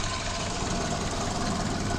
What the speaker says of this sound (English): You can hear the carburetor.